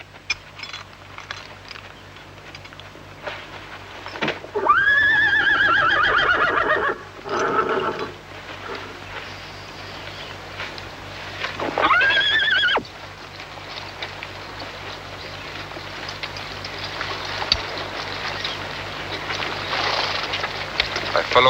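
Horses neigh in loud, drawn-out whinnies close by, two main calls a few seconds apart, over a low rumbling background with faint movement and scattered hoof sounds.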